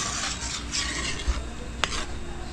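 Vegetables and bihon noodles stirred in a wok, a continuous scraping, rubbing swish with faint sizzle and a few sharp clinks of utensil against metal, close and steady, no talk.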